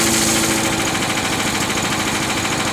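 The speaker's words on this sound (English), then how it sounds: "here goes first start of the 301cc Predator on the yard vac" A freshly repowered 301cc Predator engine on a tow-behind yard vacuum runs steadily at idle, a loud, continuous close-up drone with a slight uneven vibration and no talking.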